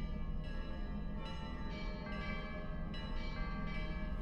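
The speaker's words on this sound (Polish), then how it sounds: "To dzwony z nagrań archiwalnych. Dawnych klasztorów." Archival recording of old monastery church bells, several bells ringing together in a dense, continuous peal with overlapping strikes and long sustained resonance, loud and close, no voices.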